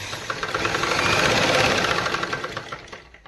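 A sewing machine runs continuously, stitching the end of a twice-folded fabric hem, its rapid needle chatter close and steady, swelling then easing off toward the end before stopping.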